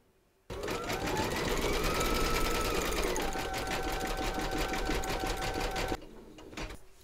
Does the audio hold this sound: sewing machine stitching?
yes